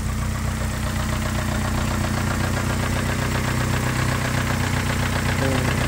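A Nissan Silvia S15 engine idles steadily up close, giving a continuous mid-pitched drone with a faint, rapid ticking of slight valve tap running through it and no voices.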